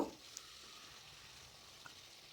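Bhetki fish pieces wrapped in bottle gourd leaves fry in a pan for paturi, giving a faint, steady sizzle with a couple of small pops and no voices.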